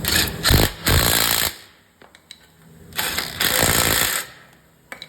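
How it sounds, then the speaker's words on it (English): An impact tool tightens the two 18mm caliper bracket bolts on a Jeep Compass front brake, giving two loud rattling bursts of about a second each, close by, separated by quieter clicks and handling sounds. "Now I'm going to tighten down the two 18mm caliper bracket bolts."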